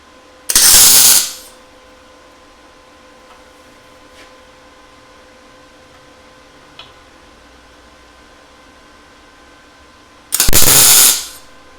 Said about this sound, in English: I can hold this down and tack the spacer in place.